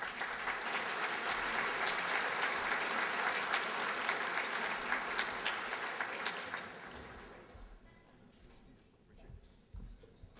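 An audience at a formal dinner event applauds warmly to welcome a former Lieutenant Governor and U.S. Congressman, with sustained clapping that tapers off into scattered claps and room noise.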